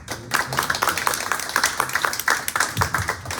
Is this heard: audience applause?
yes